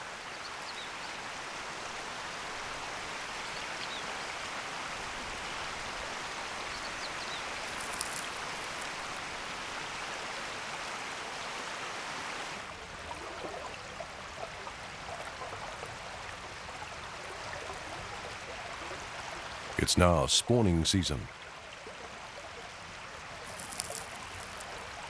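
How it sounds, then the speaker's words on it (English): A mountain stream, home to Amago trout, flows in the rain with a constant rushing wash; a voice speaks briefly near the end. "This is the mountain stream that's home to the Amago."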